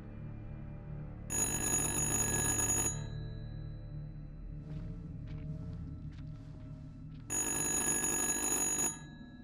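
A telephone rings in the horror video game The Dark Pictures: Little Hope, with two loud, bright bursts of ringing separated by a quiet pause holding a few faint clicks and a low hum.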